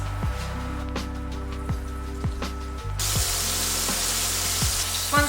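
Steady hiss and crackle of breaded chicken thighs deep frying in oil at about 180 degrees for Korean fried chicken, with a sharper sizzle surge partway through; no voices.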